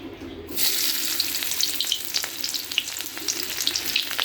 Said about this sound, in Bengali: এতে আমি আলু ভাজির জন্য পেঁয়াজ কুচি ছেড়ে দিলাম